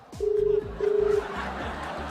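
A phone ringback tone sounds in two steady buzzing bursts with a pause between, close and clear, followed by faint background noise.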